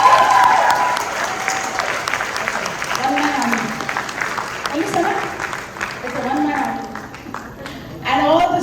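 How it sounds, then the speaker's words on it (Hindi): Applause from a school audience greets Hindi department teachers and students at a Hindi Divas celebration at JSS International Dubai, loud and continuous, with a speaking voice and crowd chatter mixed in and a swell of clapping near the end. "इनके लिए जोरदार तालियां"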